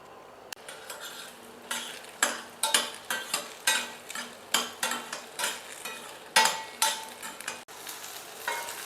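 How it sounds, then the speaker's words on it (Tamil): Okra (lady's finger) frying in oil while a spoon stirs it in the pan, with soft continuous sizzling under a steady rhythm of scraping, clinking strokes, close and fairly loud, no talk. "எண்ணெய் ஊற்றி நம்ம வெண்டைக்காவை வதக்கி எடுத்துக்கலாம்"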